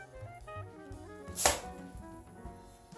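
A knife slices through sausage on a board during breakfast sandwich prep, one sharp chopping thud standing out clearly over faint background music.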